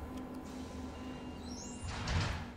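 Sliding doors on a Roblox trolley bus glide open with a soft mechanical whoosh that swells near the end over a steady background hum.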